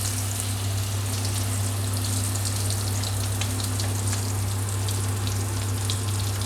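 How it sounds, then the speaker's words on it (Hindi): Breaded, egg-dipped chicken frying in hot oil, a steady dense sizzle and crackle over a constant low hum, with no voices. "इसको इस तरह से फ्राई करने डाल दिया"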